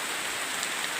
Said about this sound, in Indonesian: Derasnya hujan ini turun